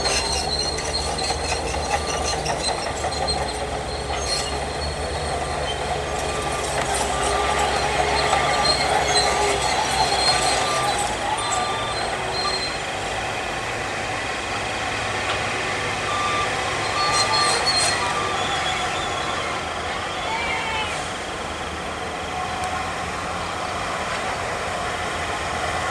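Dump trucks and road rollers working at a toll road exit at night, heard as a steady, fairly loud mechanical rumble with scattered beeps and clanks throughout, and no talking.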